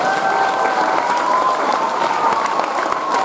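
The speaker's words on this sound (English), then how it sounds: "How about another round of applause for our second grade students?" Sustained audience applause fills a school Veterans Day assembly honoring second grade student performers, a steady dense wash of many hands clapping at close range with no voices.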